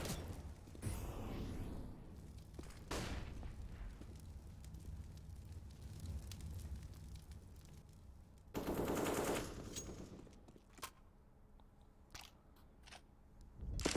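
Rapid automatic gunfire from the video game Counter-Strike during a PGL Major Stockholm 2021 esports match, with loud sharp bursts near the start and a dense, heavy volley around the middle over a continuous game and crowd bed.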